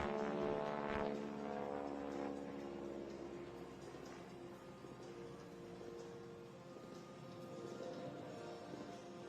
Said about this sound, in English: Listen to the sound of that motor whine in the sky.